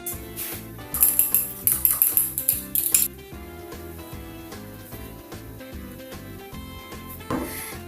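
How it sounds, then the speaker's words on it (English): An egg being beaten with a fork in a bowl for a steak and potato pie glaze, a quick run of rhythmic clicking taps against the bowl, then softer scraping over steady background music. "I'm gonna get an egg, beat it, and glaze it."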